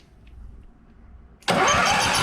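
A 1982 Bush Swamper engine cranks and catches after a quiet lead-in, bursting into a loud, steady running roar that holds to the end.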